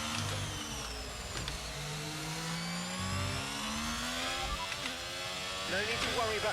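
Formula 1 cars whine through a Singapore street race in F1 22, rising and falling high-pitched engine tones sweeping across one another as gears shift, with a close buzz of nearby cars overtaking.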